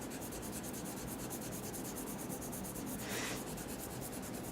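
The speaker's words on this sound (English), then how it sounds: "you can actually just go like this and start shading in, kind of like this, loose like a sketch." Steady, soft pencil strokes scratch across paper as a loose sketch is shaded in, a continuous close rubbing texture with a brief brighter swipe near the end.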